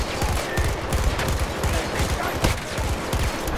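Rapid, continuous gunfire from hip-firing a weapon in the shooter video game Battlefield 2042, a steady stream of close, punchy shots with no pauses.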